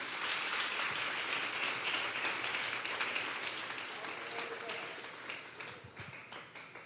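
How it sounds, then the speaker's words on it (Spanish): Congregation applause at a Sunday church service fills the room, a dense steady clapping that gradually thins toward the end, with faint voices mixed in. "Denle un fuerte aplauso pues al Señor."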